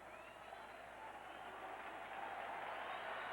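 A thinning baseball crowd at a 1999 Red Sox–Indians game in Cleveland cheers for a strikeout, a steady distant roar of applause and voices swelling slightly over a few seconds.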